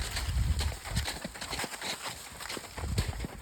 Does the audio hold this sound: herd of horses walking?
yes